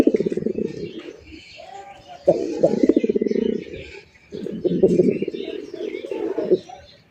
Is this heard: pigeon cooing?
yes